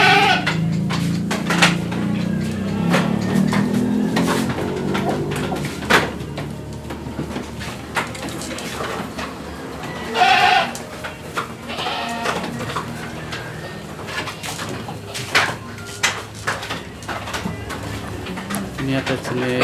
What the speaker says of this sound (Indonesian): Mantap teman-teman kambingnya.